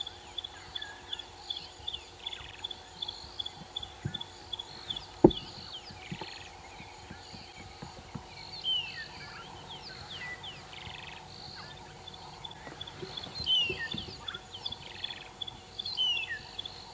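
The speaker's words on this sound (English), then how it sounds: "This stage is just birds saying good morning." Dawn birdsong on a sunrise safari drive: faint, scattered chirps and whistles from several birds over a steady insect hum, with occasional soft knocks.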